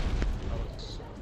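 A single sharp, booming gunshot in Halo: The Master Chief Collection early on, over a dense rumble of game noise and murmured voices.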